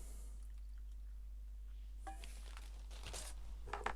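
Hot water poured from a flask into a cup for tea, heard as a few soft splashing bursts in the second half over a low steady hum, with no talking.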